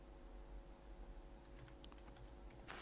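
Code being typed on a computer keyboard, a quiet close run of rapid key taps over a low background hum, ending in a slightly louder keystroke.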